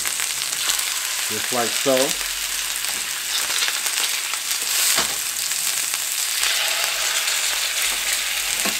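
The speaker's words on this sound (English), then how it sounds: "We're going to go ahead and flip this over. Put some oil on this side." Chicken pieces fry in oil after being flipped, a steady close sizzle with occasional spatters; someone speaks briefly early on over the hiss.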